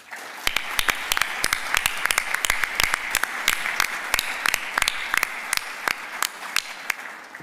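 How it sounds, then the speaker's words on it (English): An audience at a county State of the County address applauds: dense, sustained clapping from many people in a hall, loud and even throughout, with no voices over it. "Please join me in recognizing and thanking them with a round of applause."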